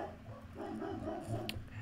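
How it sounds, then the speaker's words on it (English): A dog named Prada barks in the background, a few short muffled woofs at moderate distance behind game noise. "My dog is barking."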